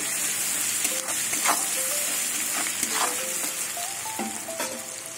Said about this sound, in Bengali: এবার পেঁয়াজটা ভেজে দেবো।